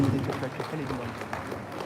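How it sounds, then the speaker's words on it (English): An audience claps at a live political event at Central University, where NPP figures are present. The applause is a dense, steady wash of many hands heard throughout, with a voice talking over it. "A bigger round of applause for yourselves."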